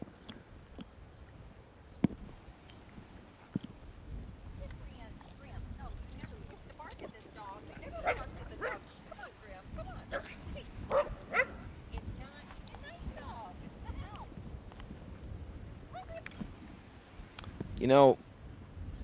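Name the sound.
dog barking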